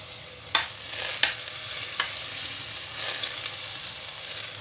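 Butter and a little oil sizzling in a pan while pasta is made: a constant soft frying hiss with a few sharp clicks or taps early on.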